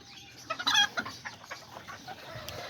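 A broody Serama hen that has been sitting on eggs clucks in a quick, close burst early on, then gives softer, scattered clucks with farmyard background noise.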